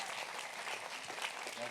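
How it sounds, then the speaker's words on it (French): An audience keeps applauding a team, a dense, steady patter of many hands clapping that sounds somewhat distant and fills the whole short moment. "On peut continuer d'applaudir l'équipe"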